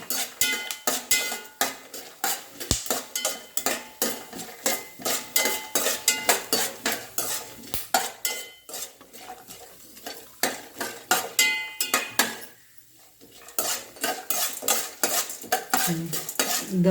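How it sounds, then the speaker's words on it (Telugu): Chana dal, cumin and urad dal dry-roasting in a pan for foxtail millet khichdi, stirred constantly with a spoon; close, busy scraping and rattling of grains and metal runs throughout, easing briefly near the end, with no talking. "శనగపప్పు, జీలకర్ర, మినపప్పు ఫ్రెండ్స్ 3 వేసుకుని ఇవన్నీ ఒకసారి వేయించుకోవాలి"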